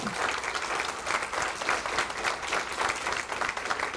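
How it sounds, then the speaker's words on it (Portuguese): An audience at a mathematics education conference applauds for Professor Marco Antônio, with dense, steady clapping filling the room for several seconds at an even loudness. "Uma salva de palmas, professor Marco Antônio."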